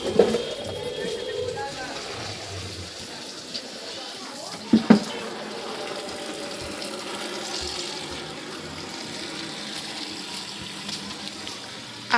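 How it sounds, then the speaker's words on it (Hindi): Water splashes and pours as garden plants are watered, a low gushing that comes and goes with a few louder splashes, while voices talk nearby. "हम लोग यहाँ पर भी पौधे में डालेंगे पानी,"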